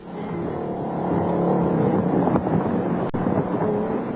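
A GBS Nissan Hardbody off-road race truck runs in Class D at a 2003 South African off-road race, giving a steady, loud broadband engine and road roar with heavy wind buffeting and one sharp knock near the end.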